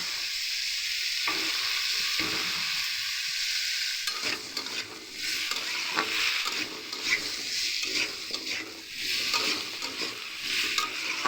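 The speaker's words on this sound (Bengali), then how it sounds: "এর ভালো করে কষিয়ে নেবো।" Vegetarian papaya curry (papaya dalna) being stir-fried in a pan, with a steady broad sizzle throughout and repeated scraping, stirring strokes becoming busier in the second half, close and fairly loud with no voices.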